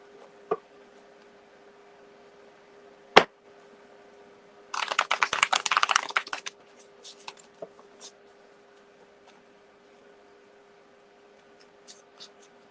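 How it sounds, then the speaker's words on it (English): A brisk burst of tarot cards being shuffled, a flurry of rapid riffling snaps lasting about two seconds, surrounded by a few isolated taps and clicks. "All right, Grace, give me just a moment to shuffle here."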